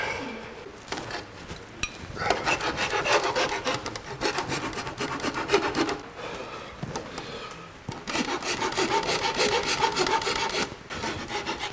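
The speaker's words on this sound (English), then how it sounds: "I've kind of smoothed this up with wood rasp." Repeated rough rasping strokes of a wood rasp shaping a twisted wooden hollow form, loud and close, in long back-and-forth passes with brief pauses between bursts.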